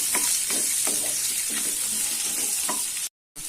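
Two large chopped onions sauté in a pan for Chettinad-style kara chutney, a close steady sizzle with regular scraping stirs, no talking, ending in a brief cut to silence.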